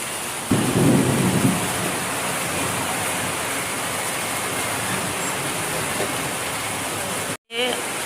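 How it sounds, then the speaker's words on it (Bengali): Heavy rain pours steadily at dusk around a cattle shed sheltered with plastic sheeting, with a loud low thunder rumble early on and a brief drop in the sound near the end. "বাইরে প্রচুর বৃষ্টি হচ্ছে।"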